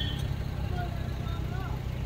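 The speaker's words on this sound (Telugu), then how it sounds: "ఇది guys traffic in toll plaza." Traffic rumbles at a toll plaza near Tirupati, a steady low drone of car and bus engines with a few faint higher tones passing over it, moderately quiet and continuous.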